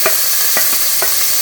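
Onions sauté in a pan for sambar, a constant loud sizzle punctuated by three evenly spaced scrapes of a stirring spoon.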